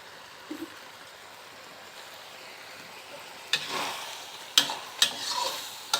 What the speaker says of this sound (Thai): เสร็จแล้วก็ทำการผลัดคลุกเคล้าให้เข้ากัน